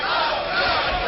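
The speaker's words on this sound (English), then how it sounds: "And now the chant from the crowd of Lopez." A boxing arena crowd chants a fighter's name, a dense, loud roar of many voices that fills the whole moment without a break.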